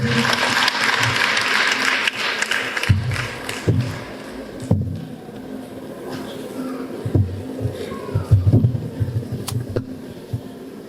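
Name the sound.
applause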